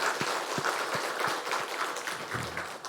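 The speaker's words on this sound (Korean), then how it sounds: "축복과 격려의 박수, 감사의 박수 한번 하겠습니다." A church congregation at an early-morning service claps in blessing and thanks, sustained dense applause at steady volume with a few sharp low thumps scattered through it.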